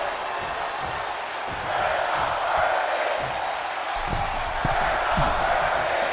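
A wrestling-event crowd roars and cheers in a sustained wash of noise, swelling louder toward the end, with scattered thuds and slams from the ring beneath it.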